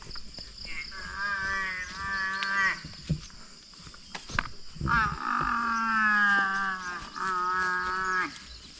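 A carabao (water buffalo) on a Philippine farm lets out repeated long, loud, drawn-out moos close by, with brief pauses between calls and no talking over them.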